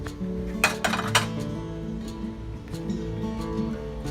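Baked treats set down on a plate in a home kitchen while decorating with kids, a few sharp clinks and clatters of dishware up close early on, followed by softer handling noise.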